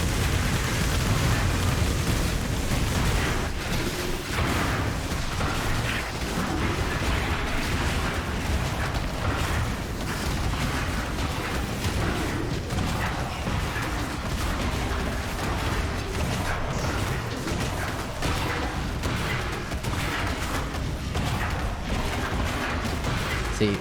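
Repeated explosions from a Shockwave Juggernaut build in Path of Exile, a dense, continuous barrage of loud booms and blasts with game effects layered throughout, no talking.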